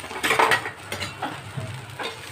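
Chowmein with vegetables stirred in a pan makes close scraping and clattering strokes over a soft background sizzle, in irregular bursts without talking.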